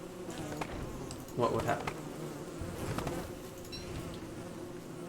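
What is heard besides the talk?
bees buzzing in Don't Starve video game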